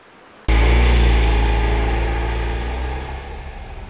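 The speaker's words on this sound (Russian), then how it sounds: "Когда маленький двигатель «Нано» работает с полной нагрузкой, он бывает довольно шумным." A Tata Nano's small engine runs under full load, starting abruptly as a loud, steady low drone with a harsh buzzing edge that holds near the listener and eases slightly toward the end.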